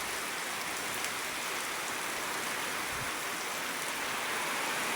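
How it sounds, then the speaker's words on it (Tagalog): A steady downpour hisses without pause, thick and loud, as heavy rain drums on nearby surfaces. "Nakasang ulan talaga."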